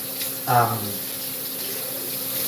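Water runs steadily from a household tap, a continuous hiss with a brief louder burst of voice or noise near the start.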